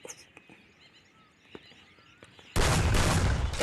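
A shotgun blasts in a mobile battle-royale shooter, a sudden loud burst cutting in after quiet ambient game noise with faint clicks and steps.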